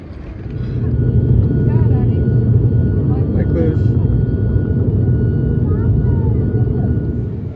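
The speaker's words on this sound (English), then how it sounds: "Was not expecting a prop plane today." Propeller plane engine rumbling low and steady at close range, a constant drone filling the whole stretch, with a brief spoken greeting over it.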